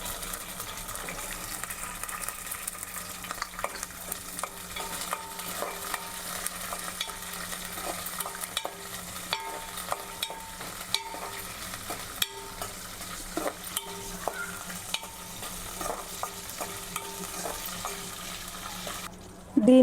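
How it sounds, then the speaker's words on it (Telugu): Green chillies frying in oil and being stirred in a pan for mint chutney: a soft continuous sizzle with repeated spatula scrapes and clicks across about twenty seconds, with faint background music and no speech. "ఇదే ఆయిల్లో ఇంకా కొంచెం ఆయిల్ వేసుకొని దీంట్లో మనం తీసుకున్నటువంటి పచ్చిమిర్చి వేసుకొని ఫ్రై చేసుకుందాం."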